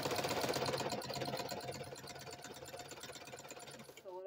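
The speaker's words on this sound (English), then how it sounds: "Sew it all the way to the end." A sewing machine stitches tightly stretched elastic onto a sock with a fast, steady mechanical whirr and rattle, close and continuous, then stops abruptly near the end.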